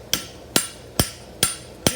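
Hammer striking a horseshoe to bump the toe during shoeing work: five sharp, evenly spaced metallic blows with a bright ringing tail, close and loud, with no voices.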